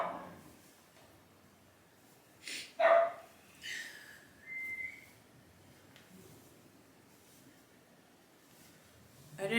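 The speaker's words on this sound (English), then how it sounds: "And there goes my dog." A dog barks indoors in a few short, fairly faint bursts, including a sharp yip, against quiet room noise.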